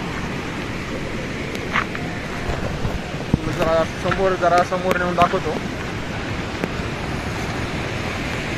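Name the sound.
rushing water of a rain-swollen stream at Lonavala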